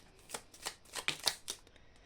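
A small deck of oracle cards shuffled close up, a handful of quiet crisp riffles and flicks, unevenly spaced, with no speech.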